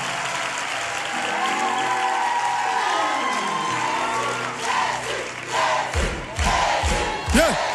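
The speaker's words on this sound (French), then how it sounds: "Acclamez pour les chants." A Pentecost conference congregation breaks into loud, sustained applause and cheering, with crowd roars swelling over musical tones and rhythmic thumps near the end.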